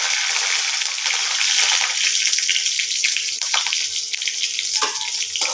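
Panch phoron, a bay leaf, green chillies and a dried red chilli hitting hot oil in a home kitchen, giving a loud, steady crackling sizzle that runs throughout with no talking.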